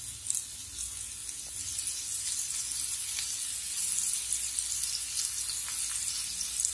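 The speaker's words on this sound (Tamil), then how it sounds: "வெங்காயத்தை நல்லா எண்ணெயில வதக்கி விட்டுடுங்க." Onions saute in oil in a pan for mushroom sukka, producing a continuous, even hiss of frying up close that swells slightly toward the end, with no one speaking.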